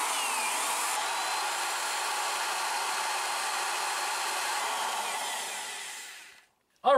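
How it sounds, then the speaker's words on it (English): A steady, high-pitched motorized whine from a 300-watt electric drill powered by a Bluetti EB3A portable power station underground in a tunnel runs continuously for several seconds, then cuts off abruptly near the end. "I can run a 300-watt drill if I want to do small detail projects"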